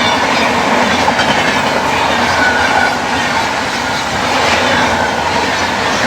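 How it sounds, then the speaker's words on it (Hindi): Bhatni–LTT Superfast Express crossing on an Indian railway line near Lalitpur, heard from a moving train: a loud, steady rush of wheels and rail rumble with faint clickety-clack, continuous and close throughout. "ललितपुर में शायद क्रॉसिंग हो जाएगी, भटनी LTT सुपरफास्ट एक्सप्रेस के साथ"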